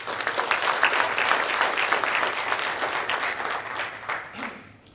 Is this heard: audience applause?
yes